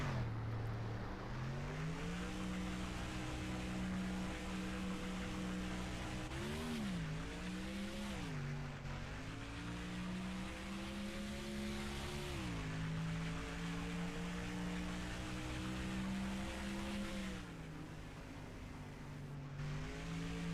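A race car engine in NASCAR Thunder 2004 drones steadily through practice laps, its pitch dipping and climbing with several gear changes over about twenty seconds.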